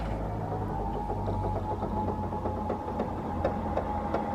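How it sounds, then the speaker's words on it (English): A Toyota Highlander's trunk hatch is released and lifts open, giving a steady mechanical whirring hum with faint scattered clicks for several seconds, close by and with no voices. "you're going to need to pop the trunk hatch and let it raise up"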